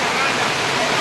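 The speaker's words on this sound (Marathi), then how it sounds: "वरनं पाणी सांडतंय बघा, पाणी सांडतंय तरी पण अजिबात उठलेलं नाही." Rainwater pours down from above during an outdoor feast, a dense, even splashing rush filling the whole moment at close range.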